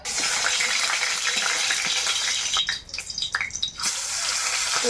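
Fish rubbed with salt and turmeric frying in oil in a kadai, a steady loud hiss and sizzle that briefly breaks into sputtering pops before settling back into a continuous spatter.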